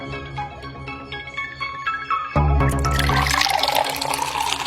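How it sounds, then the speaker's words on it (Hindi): Water suddenly gushing and splashing after a quiet stretch of music-like tones, a loud, continuous rushing pour that starts abruptly and carries on to the end. "पानी कहाँ से आ रहा है?"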